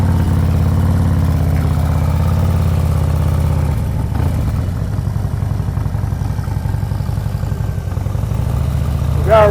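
A motorcycle engine idles steadily nearby, then its low drone shifts and pulls away as the rider eases out through the clutch friction zone, with the rumble holding through the end.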